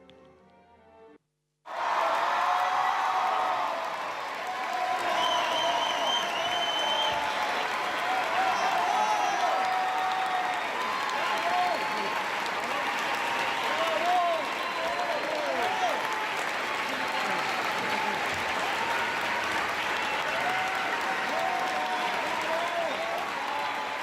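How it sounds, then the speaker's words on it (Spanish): A large crowd outside a theatre gives a ballet dancer an ovation, with dense, loud applause and scattered cheers that carry on steadily for over twenty seconds after a brief quiet start. "Esta es la ovación a Marianela Núñez."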